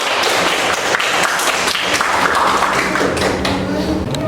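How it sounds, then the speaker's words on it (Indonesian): Students in a classroom clap for a group's presenter during a broadcasting and film lesson, a steady, dense patter of many hands that holds at an even level for about four seconds. "tepuk tangan untuk perwakilan dari kelompok"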